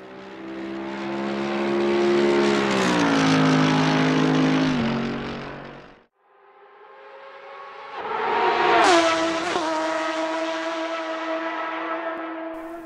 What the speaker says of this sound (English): So we'll start off with the Ferrari 488 GT3 EVO.